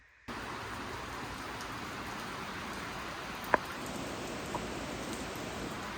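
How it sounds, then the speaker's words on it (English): Steady rain pours down in a continuous hiss, with a faint tap or two standing out partway through. "My apologies because of the rain in the background."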